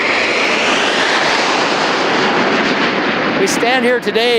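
Loud, roaring jet engines sweep overhead in a sustained rush as the RCAF Snowbirds aerobatic team passes close by in formation, with a brief voice at the very end.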